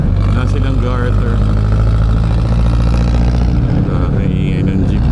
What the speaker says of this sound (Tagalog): Ingay ng jeep.